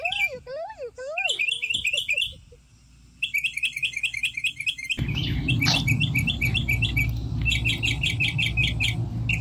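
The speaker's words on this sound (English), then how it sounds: "Kenshi, what does the bird say?" A bird calls in a forest with a quick run of repeated high chirps and whistled trills in several bursts, close and clear, while a low rumbling noise fills the second half.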